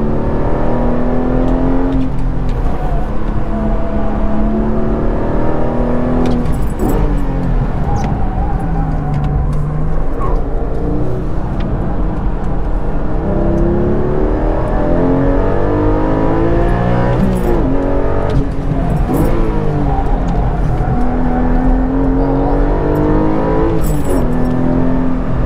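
Porsche Cayman GTS 4.0 flat-six revving hard on a race track, loud and continuous with rising and falling pitch sweeps through repeated gear changes and lift-offs, heard close from inside with no talking.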